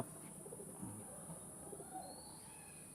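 Mostly male tournament pigeons and a master's pair, kept loose in a loft room, give low soft coos, faint and intermittent, over a steady high electrical hum and quiet room noise.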